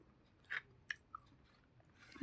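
Someone eating khichuri by hand, with a few soft, close chewing and mouth sounds in short bursts against near silence.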